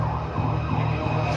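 An ambulance siren at a pier in West Manggarai wails steadily and loudly over broad road and engine noise, with no one speaking.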